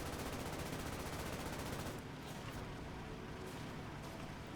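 Sustained suppressing gunfire in the Easy Red 2 World War II shooter, a dense, continuous roar of rapid automatic shots that holds loud for about two seconds and then eases slightly while still rattling on without pause.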